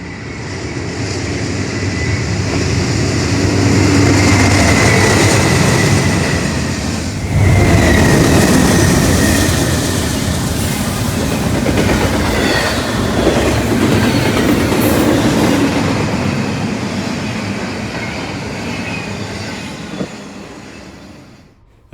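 An eastbound BNSF intermodal freight train rolls past close by, a loud, steady rumble with wheel clatter and rail noise that holds for about twenty seconds before easing off slightly at the end.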